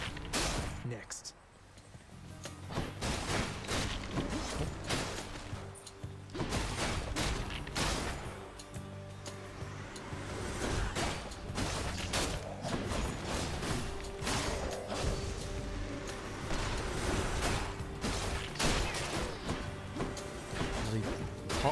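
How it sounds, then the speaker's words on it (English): Pots and vases smashing amid explosions in the Hades action game, a dense run of sharp crashes, thumps and blasts, fast and irregular throughout, with a voice talking over parts of it. "The pots, vases of death and explosions."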